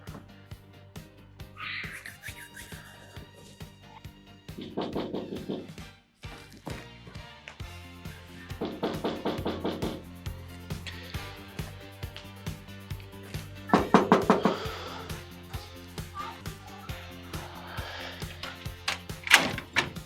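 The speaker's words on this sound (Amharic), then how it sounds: "አንቺ ሰኒ ለምንድን ነው በሩን ማትከፍቱ" Someone knocks on a house door in a drama scene: several separate bursts of rapid raps spaced a few seconds apart, heard over steady background music.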